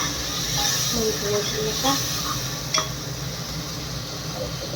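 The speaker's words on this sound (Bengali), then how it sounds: "জলটা দিয়ে এখন কষাই মশলাটা।" Mutton spice paste being sautéed with a splash of water in a pan, a soft hissing sizzle with light stirring and an occasional utensil clink, under quiet background sound.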